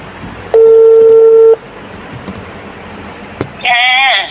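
A phone call connects with a loud, steady tone held for about a second, then a pause of faint background noise before a shrill warbling electronic tone near the end.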